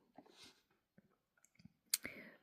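A computer mouse clicks a few times while fabric entries are selected in a sewing app, quiet and close, with one sharper click near the end and no talk.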